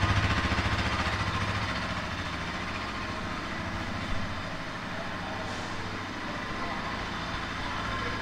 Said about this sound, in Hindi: अब कर लेते हैं इसका एग्जॉस्ट साउंड चेक, तो करते हैं इसे फटाफट स्टार्ट।